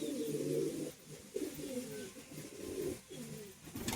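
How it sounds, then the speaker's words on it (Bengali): Pet pigeons, a male and a female, coo softly and repeatedly at close range, their low throaty burbles overlapping in an uneven rhythm with no speech. "প্রচুর অ্যাক্টিভ পায়রা"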